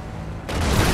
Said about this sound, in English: Wait, they're shooting over here, they're shooting.